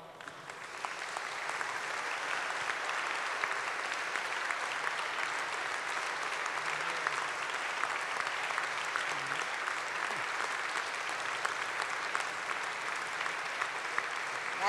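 A concert audience applauds warmly to welcome the conductor at a Christmas concert in Sardinia. The clapping is dense and steady, sustained at an even loudness for about fifteen seconds.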